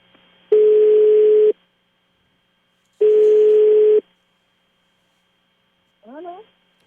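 A landline call rings out with two one-second ringback tones separated by a pause, clean and loud, followed by a short rising chirp on the line.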